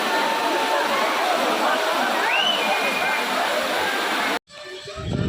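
A waterfall, Puliyaruvi (Tiger Falls), roars loudly and steadily close by, then the rushing sound cuts off abruptly near the end.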